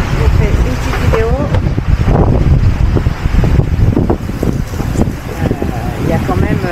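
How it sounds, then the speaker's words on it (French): Wind and swell batter a boat at sea while fleeing a cyclone, a loud continuous rush and rumble with a person talking over it throughout. "Il y a du vent, il y a de la houle, la navigation va être un peu sportive."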